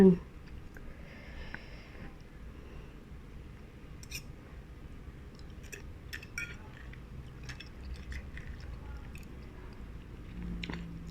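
Close, soft chewing and biting while someone eats spicy crab, with moist squishes, a few sniffs and light clinks of utensils, spread irregularly over the stretch, faint but intimate.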